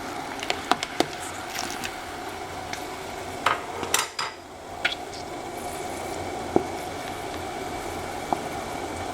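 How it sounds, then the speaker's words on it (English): Cranberries in a pot on a stove, scattered soft pops and squishy crackles as juice bursts out, with light clinks of a utensil against the pot over a steady low hum. "You can hear all the juices escaping"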